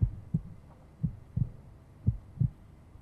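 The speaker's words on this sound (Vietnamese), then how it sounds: "Xem nhịp tim của mình có đập hay không." A heartbeat effect plays during a heart rate check on a Vietnamese dating game show, with soft, low thumps pulsing at a steady, slow rhythm, quiet and with no talking.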